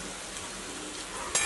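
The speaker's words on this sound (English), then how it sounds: "Mix well and give it a good stir" Sliced tindora (ivy gourd) fries over a low flame in a pan, with a steady soft sizzle, gentle stirring scrapes and a sharper clink near the end.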